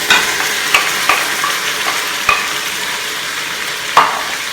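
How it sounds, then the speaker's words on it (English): Jackfruit and coconut milk stirred in a hot Instant Pot, a steady sizzle with a few sharp clinks and scrapes of the spoon against the pot, no talk. "we're going to add our lanka or jackfruit and our coconut milk"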